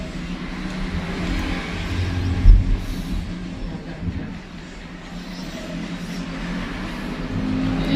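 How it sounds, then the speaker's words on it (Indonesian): Vehicles speed past outdoors, heard from inside as a continuous low engine roar with one brief louder surge partway through, then the steady rumble carries on. "Itu di luar orang kebut-kebutan semua."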